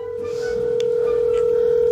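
A phone call tone sounds as one steady continuous tone, loud and close, holding for about two seconds before cutting off.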